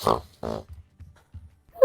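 Pig grunting in a video game: two short, squealing oinks up front, then a run of soft, low grunts spaced out after them, close and fairly clear.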